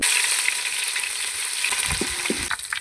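Hot oil sizzles and crackles steadily in a heated pot, with a few light scraping stirs near the end.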